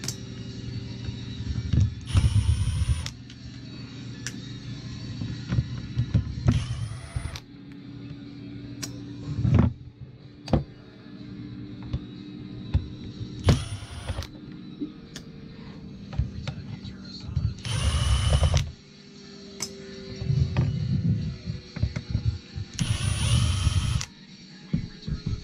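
A cordless drill set to self-tapping mode drives screws in repeated short bursts of whirring, each lasting a second or two with pauses between, close and fairly loud over background handling noise.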